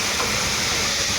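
Chili tadka sizzling as it is poured into hot oil at a Delhi street food stall, a steady, dense hiss filling the whole moment without letup.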